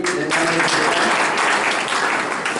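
A crowd at a Hindi promotion ceremony in Nagda bursts into sustained applause, dense clapping filling the room, with a brief voice at the very start.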